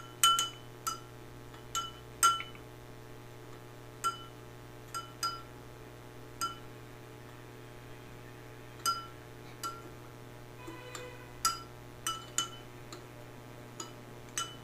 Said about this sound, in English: We'll stir it till the salt fully dissolves.